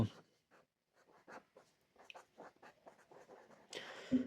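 Pen writing out a Class 10 trigonometry solution by hand, heard close and quiet as short scratchy strokes in an uneven rhythm, with a slightly louder flurry at the end.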